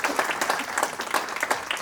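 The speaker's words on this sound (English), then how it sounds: "So that deserves a big clap for you" An audience in a hall breaks into brisk, dense applause for children, many hands clapping close and loud without pause.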